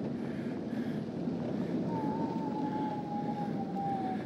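Steady wind rushes and buffets against a GoPro microphone fitted with a wind muff outdoors, a constant low roar with a faint thin whine drifting through the middle.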